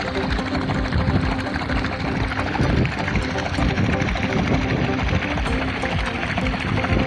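Small boat pushed by an outboard built from a converted 240-volt washing machine motor running on 24 volts, giving a steady close whirring drone mixed with water noise that holds throughout.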